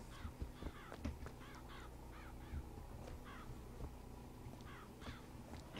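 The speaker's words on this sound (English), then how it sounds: "Why are all the crows in, like, the..." Crows cawing repeatedly in the video game Bioshock Infinite, several harsh calls overlapping against a steady ambient background, moderately loud with no talking.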